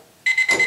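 Egg timer ringing after a screen print exposure, a sudden loud rapid electronic beeping that starts abruptly and repeats in short pulses, heard alone and close.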